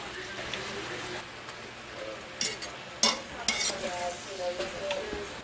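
Chunks of pineapple, about a pound and a quarter, tipped into a pan and stirred with a utensil, giving a few sharp scrapes and clatters over a soft sizzle in a home kitchen where someone talks now and then.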